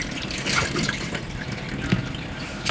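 Parsley and other tabbouleh ingredients are rinsed in a container of water, with splashing, sloshing and occasional drips, close and moderately loud, no one talking.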